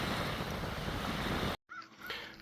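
Ocean surf and wind at the shore near Hampton Roads, Virginia, a loud continuous wash of waves with wind buffeting the microphone, cutting off abruptly to a brief silence before quieter outdoor ambience returns.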